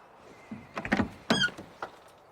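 A car door opens with a squeak: several creaking, squealing strains in quick succession, the loudest rising whine near the middle and a shorter one after, close and clear over a quiet background.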